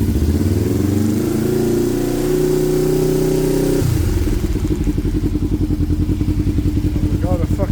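A Kawasaki ER5 motorcycle engine cranks and catches, loud and close, starting with a droning whir and settling into a rapid, chugging idle. A voice talks over it.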